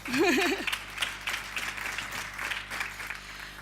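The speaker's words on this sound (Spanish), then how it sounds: "Fuerte aplauso." Conference audience clapping after a speaker's closing thanks, moderate and somewhat distant, following a brief voice at the start and carrying on steadily to the end.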